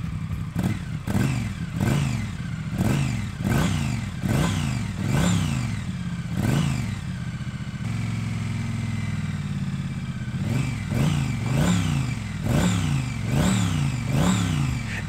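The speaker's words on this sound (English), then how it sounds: "Fire up the engine and the twin exhausts produce an awesome throbbing sound" A Triumph Street Twin motorcycle with twin exhausts idling and blipped close by, giving a deep, throbbing twin-cylinder rumble with repeated rhythmic revs that rise and fall, a brief steadier idle in the middle, then more revving.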